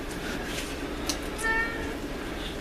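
A cat meows faintly once or twice against a steady background hum.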